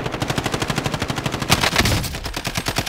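Rapid automatic gunfire in Call of Duty Warzone, a fast, even burst of close, loud shots lasting the whole few seconds, with a brief heavier crack partway through.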